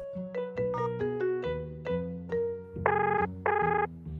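A phone rings while a call is placed to Enzo: a melodic ringtone of quick descending and rising tones, followed by two longer buzzy bursts, clear and close with no speech.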